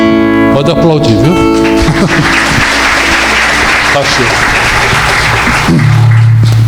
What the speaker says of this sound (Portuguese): Pode aplaudir, viu?